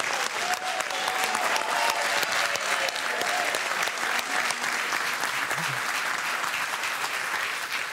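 Applause for the carnival prince: a crowd claps steadily and densely for the whole stretch, a sustained even roar of hands.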